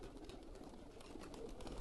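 A pet pigeon coos faintly and low, alone against a steady hiss of background noise.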